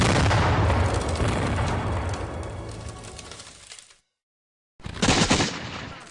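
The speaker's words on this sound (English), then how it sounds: "the British rain a constant barrage of cannon and mortar fire down upon the town." A cannon and mortar barrage rumbles loud and dense, a long roaring wall of booms that slowly fades into silence before another heavy burst of firing erupts.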